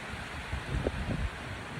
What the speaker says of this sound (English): It's turned really windy today.